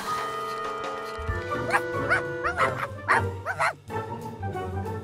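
A puppy barking in a short run of yips and whimpering barks, close and fairly loud, over soft background music.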